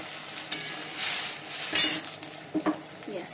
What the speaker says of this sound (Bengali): আর এবার ডালটা ঢেলে দিলাম।